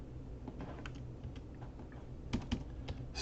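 Keys clatter on a computer keyboard as code is typed, a quick irregular run of close, light clicks with a few louder taps, no voices.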